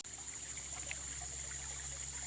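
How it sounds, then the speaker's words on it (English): Creek water trickles steadily over rocks at a crevice-prospecting spot, a soft continuous burble close by with no talking. "We can get in the creek today."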